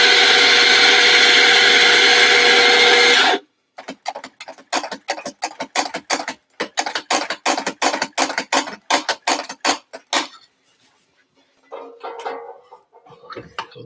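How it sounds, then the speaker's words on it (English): A grinder runs in one long continuous burst, then cuts into a rapid series of short, loud pulses that trail off into faint scattered noise. "Okay, so we're going to grind."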